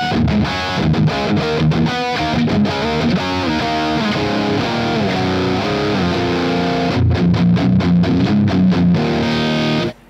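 A Freeman mini guitar amp plays a heavily distorted electric guitar tone, loud and continuous chords and riffs, with no talking, ending abruptly.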